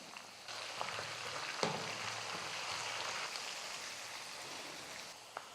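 Onion, green chilies and curry leaves sauté in a pan for tomato-lemon rice premix, producing a soft, even sizzle like light rain, with a couple of faint clicks and no talking.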